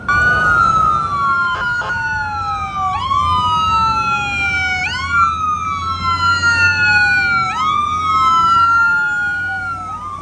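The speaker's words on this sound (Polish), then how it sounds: "To jedzie, nie to karetka jedzie." A loud ambulance siren wails close by in Alabama, USA, rising and falling in repeated sweeping cycles over a background of traffic.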